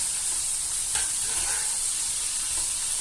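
Turkey escalope frying in a pan, a steady bright sizzle and hiss running continuously with a faint clink partway through, no voices.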